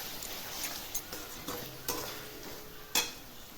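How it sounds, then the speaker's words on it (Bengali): Spice paste being stirred in a pan for mutton-fat ghugni, a faint low sizzle broken by soft, irregular scrapes and taps of a spoon, close but quiet, with no talk. "দিয়ে এটা আমি ভালো করে নাড়াচাড়া করবো।"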